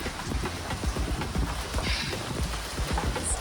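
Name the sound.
rain falling during thunderstorm, on a boat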